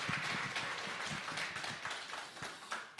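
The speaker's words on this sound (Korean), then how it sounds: "우리 포럼 하실 때 큰 박수로 환영해 주시기 바랍니다." An audience at a church evangelism camp forum in Busan claps to welcome the pastors, soft scattered applause that stays steady and faint.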